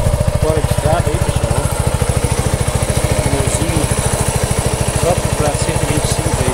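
A 125cc motorcycle on off-road tyres rides across a farm, its engine putting out a rapid, steady, close-up chugging pulse the whole way through.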